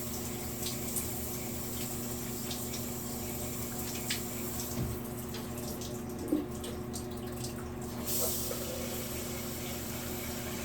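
Tap water runs steadily into a small cup for washing hair, a soft continuous flow with faint splashes and a few light knocks near the end, quiet and close with no talking.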